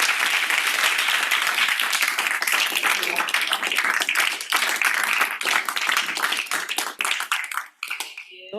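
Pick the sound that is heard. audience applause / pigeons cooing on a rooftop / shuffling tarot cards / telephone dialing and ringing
audience applause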